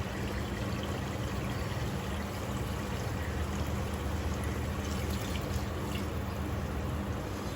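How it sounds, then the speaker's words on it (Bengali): Water is poured into a pot of boal fish curry with potatoes and snake gourd, a steady close rushing splash that continues evenly without pause. "আমি একটু পানি দিব"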